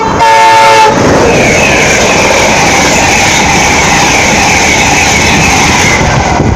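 A Virgin East Coast train to Edinburgh sounds a short two-tone horn blast, then roars past very close and loud with a sustained rushing rumble of wheels and wagons.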